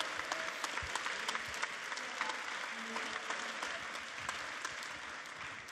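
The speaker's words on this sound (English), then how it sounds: "let's give them all a round of applause for their incredible performances today" An audience applauds performers at an RTX Sydney 2018 convention stage show. The clapping is steady and continuous throughout, dense and moderately distant, with no break.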